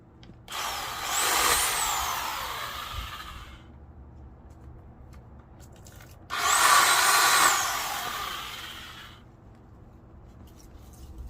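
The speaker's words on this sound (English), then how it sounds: "Let me work around this tree a little bit and cut a little bit more." Harbor Freight Portland 1.5hp electric pole saw cutting tree branches outdoors, two loud bursts of buzzing chain cutting, each lasting about three seconds, separated by a quieter pause.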